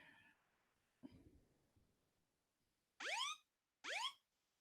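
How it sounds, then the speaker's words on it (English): Two loud rising electronic alarm sweeps from a phone's emergency SOS countdown ring out one after another, each lasting about half a second, after faint handling noise and a soft thump. "3, 2, 1, it plays a loud alarm"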